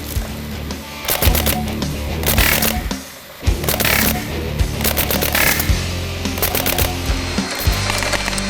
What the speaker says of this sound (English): Okay, Dylan, how about we forget about these single shots and hose these things down?